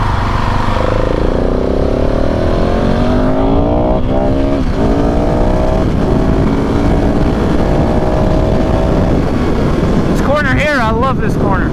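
A KTM 690 SMCR single-cylinder motorcycle rides back roads, its engine droning loud and close with rising and falling pitch through gear changes, a sharp rev near the end, and heavy wind rush; a rider talks over it.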